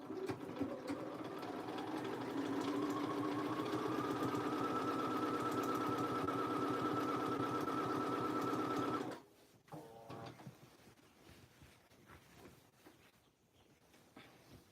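A sewing machine runs steadily for about nine seconds while stitching a Belmore jacket, its motor whir loud and continuous, then stops, leaving faint rustling and handling of the fabric.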